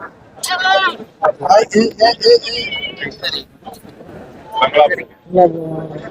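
Goats bleat at a busy goat market in Pudhuchandhai, Tamil Nadu. A few wavering bleats mix with close, loud talking and crowd bustle.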